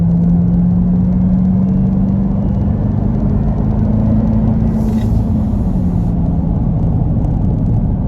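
A 2023 Dodge Durango Hellcat with a Hemi engine is driven under light throttle, heard from inside as a loud, steady low rumble with a rising engine drone.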